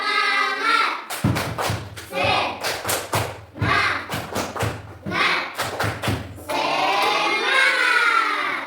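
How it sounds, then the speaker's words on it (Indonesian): Schoolchildren in a classroom perform a rhythmic spirit clap: sharp, loud, patterned bursts of claps in quick groups, with children's voices shouting and chanting before and after the clapping. "cobalah kita tepuk semangat dulu lebih dahulu"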